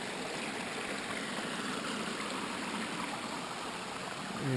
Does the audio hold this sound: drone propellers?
no